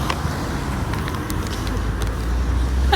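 Cars on a road in Romania or the Balkans pass by a hitchhiker without stopping, a steady low roadway rumble swelling slightly toward the end, with no talk.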